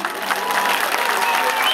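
An audience claps steadily at a seaside village show in Sığacık, İzmir, a dense, even patter of many hands lasting under two seconds with no break.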